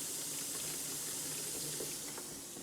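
Warm water runs steadily from a tap indoors at a homestead house, a continuous close hiss and splash that holds evenly throughout, with no talking.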